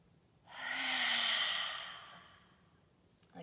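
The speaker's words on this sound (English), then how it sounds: "let's take 3 cleansing breaths together" A deep cleansing breath drawn in during a guided breathing exercise, one long loud inhale swelling and fading over about two seconds, heard alone and close.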